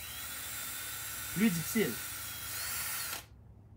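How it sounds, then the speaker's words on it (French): An electric drill bores a hole in a plastic bottle cap with a steady high whine and two brief louder bites as the bit cuts, while a voice speaks French over it. "On s'assure de faire notre trou avec notre perceuse."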